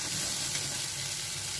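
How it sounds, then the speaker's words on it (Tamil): Vegetables and capsicum sauté over high heat for a green peas kurma, producing a dense, continuous sizzling hiss that stays loud and close for a brief moment, with no distinct stirring strokes. "இதையும் சேர்த்துட்டு ஒரு தடவை நல்லா இது ஹீட்லேயே வதக்கிக்கலாம்"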